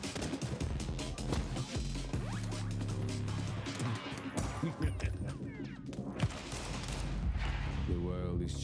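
Rapid bursts of gunfire in Counter-Strike 2 during a competitive esports match, loud rattling volleys and single shots with short pauses, mixed with voices talking.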